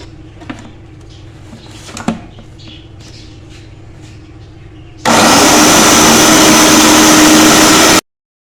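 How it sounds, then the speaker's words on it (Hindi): A kitchen blender starts after a few quiet seconds with faint clatter and roars loudly and steadily for about three seconds as it purees a green chutney with lemon, then cuts off abruptly. "अब हम इसको ब्लेंड कर लेंगे"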